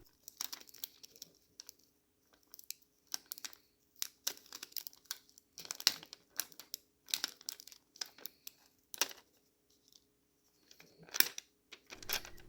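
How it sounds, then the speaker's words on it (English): Paper backing peeled from vinyl transfer tape for a Cricut ornament, heard as close, intermittent crinkling and tearing rustles in short bursts separated by quiet gaps. "Carefully peel the paper backing away from your transfer tape until your design is stuck on to the transfer tape."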